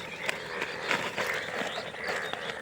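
Frogs croak near the water's edge in a short series of raspy pulses spaced a fraction of a second apart. The croaks are moderately close, with faint outdoor noise around them.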